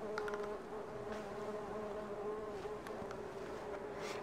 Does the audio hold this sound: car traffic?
no